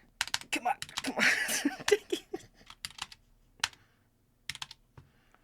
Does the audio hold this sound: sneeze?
no